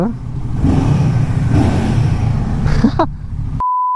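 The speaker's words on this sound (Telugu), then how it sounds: "అంతే రివ్ చేద్దాం బైక్" Motorbike engine on a rural ride running loud and steady with a rising rev near the end, wind rush throughout, cut off by a steady tone at the close.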